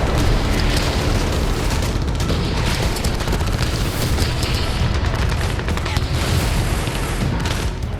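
Russian strikes on Ukrainian weapons in Zaporizhzhia produce a dense, loud, continuous roar of rumbling blasts and crackling bursts, with no clear pause or voice.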